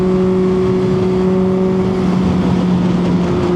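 A retro motorcycle engine running through a 4-to-2 exhaust with an X-pipe and aftermarket mufflers, a loud, steady droning hum held close and even throughout.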